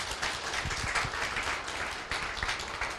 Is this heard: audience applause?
yes